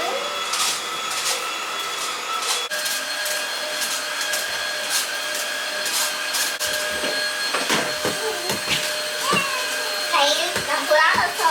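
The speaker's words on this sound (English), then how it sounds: "I just gotta vacuum and I will be done" A vacuum cleaner runs steadily at close range, a loud continuous whine and drone throughout, with a voice and an adult talking over it toward the end.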